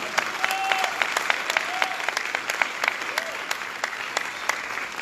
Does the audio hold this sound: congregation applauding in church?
yes